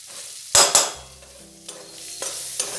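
Chopped onions frying with turmeric in a pan for prawn malai curry: two sharp stirring scrapes, then a soft sizzle with a faint hum and a few lighter scrapes.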